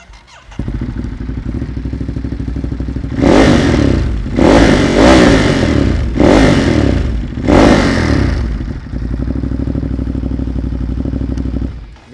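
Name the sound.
2021 Ducati Monster 937 motorcycle engine sound test, revving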